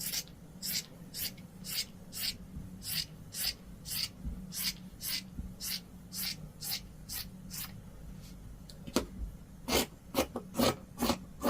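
Fabric for a kimono cardigan is cut in half in a steady series of crisp, close snipping strokes, evenly spaced and then quickening near the end.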